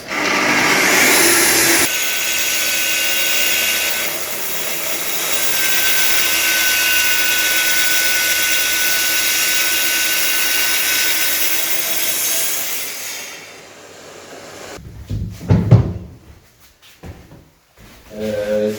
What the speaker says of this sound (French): Première coupe de sa vie à la scie circulaire.